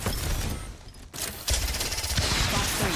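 Rapid automatic gunfire in Apex Legends, a dense rolling fusillade that drops out briefly before resuming loud and sustained, with no voices over it.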